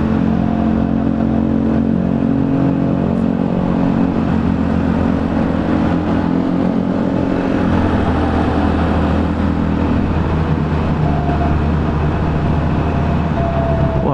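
A 2021 Can-Am Ryker three-wheeler accelerates on the road, its engine droning loudly and continuously with a steady low rumble and rising hum, plus wind noise throughout, with no talk.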